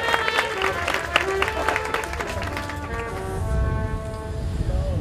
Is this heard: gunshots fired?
no